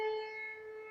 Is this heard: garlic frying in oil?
no